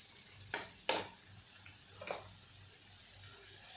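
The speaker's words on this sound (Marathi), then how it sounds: "हे सगळं छान ट्रान्सलुसंट होईस्तवर आपल्याला हलवून घ्यायचं आहे" Onion and tomato fry in a pan for a dhaba-style palak paneer base, a soft sizzle with a few quick scraping stirs of a spoon against the pan, fairly quiet and without voices.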